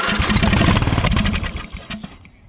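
An old riding mower left abandoned for years fires up and runs loud and close, its small engine chugging in a rough, uneven rhythm before easing off toward the end.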